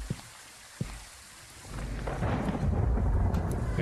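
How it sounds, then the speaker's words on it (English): Thunder in the video game Phasmophobia rumbles in low and swells into a long, rolling roar over steady rain, with a couple of sharp clicks near the start and no talk. "Ooh, good thunder sound."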